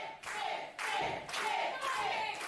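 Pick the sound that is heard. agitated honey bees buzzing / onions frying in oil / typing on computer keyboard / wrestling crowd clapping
wrestling crowd clapping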